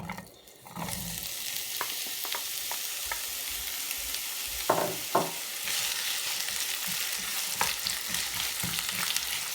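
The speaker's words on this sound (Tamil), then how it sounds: "சட்டிக்கில் சிறிதில் எண்ணெய் விட்டுக்கிறேன். வெங்காயத்தை போட போகிறேன்." Onions hit hot oil in a pan and fry with a loud, steady sizzle, broken by a few sharp clinks and stirring scrapes, close by and with no talk.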